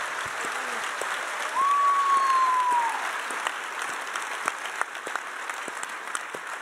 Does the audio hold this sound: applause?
yes